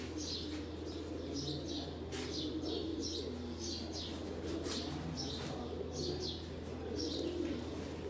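Sialkoti pigeons coo softly in a regular series of short repeated calls over a constant low background hum, fairly faint and without talk.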